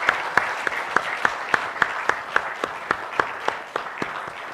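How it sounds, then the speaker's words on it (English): Audience applause for a standing group of leaders at a foundation's founder's address, a steady run of distinct claps spread across the room, fairly sparse and rhythmic, with no voices over it. "let's give them a round of applause."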